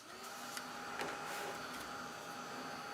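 A Ranger heat tool blows hot air to dry a watercolor painting, giving a steady, continuous whirring hum with a fan-like hiss that holds level throughout, close by and alone.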